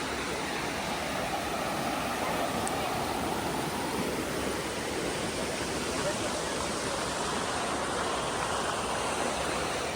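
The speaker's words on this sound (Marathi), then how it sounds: "मंदिराच्या थोडंसं बाजूलाच हा ओहळ वाहतोय इथे छोटासा मानवनिर्मित बंधारा आहे आणि त्यातून हे पाणी जात आहे" A small stream pours through a little man-made check dam beside a temple, a loud, dense, continuous rush of water close by.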